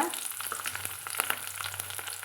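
Green chillies and urad dal crackle and sizzle in hot oil, a brisk, close spitting sound from a tempering for a bottle gourd dish, with no talking.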